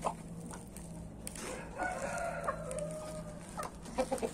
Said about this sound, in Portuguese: Aqui estão as três galinhas